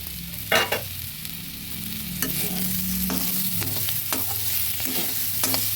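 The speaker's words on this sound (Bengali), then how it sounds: "ভালো করে নেড়ে চেড়ে" Fenugreek greens with beans and potatoes fry in a pan while being stirred, a steady sizzle beneath repeated scraping spatula strokes, close and clear with no voices.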